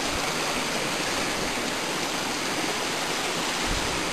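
Rushing mountain stream water in a headwater near Campo Grande, Teresópolis, a loud, steady broadband roar that fills the whole clip close to the microphone, with no voices.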